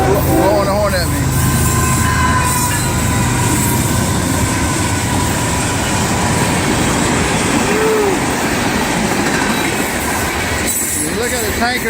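A long freight train of tank cars rolls past close by, continuous heavy rumble and clatter of wheels on rail with a brief squeal, while someone talks over it.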